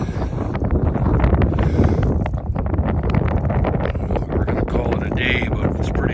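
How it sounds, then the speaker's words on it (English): Strong wind sweeps across Eagle Lake during a fishing stop, buffeting the microphone with a loud, steady roar that lasts the whole stretch. "it's pretty windy"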